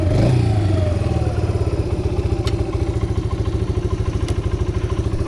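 A Yamaha Breeze 125 ATV engine idles with a steady low, pulsing putter as it drops into reverse, a brief clunk at the start and a couple of sharp clicks breaking through the close, loud chug.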